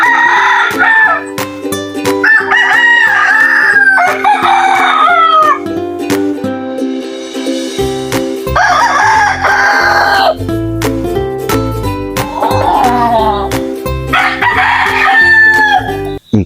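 Several tied-up roosters crow in turn, long loud cock-a-doodle-doos overlapping one another, close by on damp ground after rain, with a steady low hum underneath and no talk.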